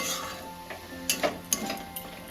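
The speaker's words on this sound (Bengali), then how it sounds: "এবার আমি কিছুক্ষণ এটাকে ভালো করে নেড়ে নেড়ে" Chhana and grated coconut cooked down with jaggery in a pan, stirred with soft scraping and a few light clinks against the pan over a low sizzle, close and alone.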